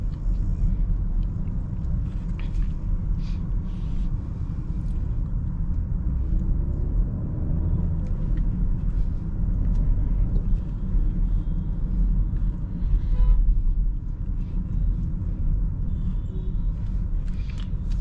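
A 2025 BMW X7 40i M Sport accelerates on an Indian city road at night, a steady low engine and road rumble heard from inside the cabin, swelling slightly midway.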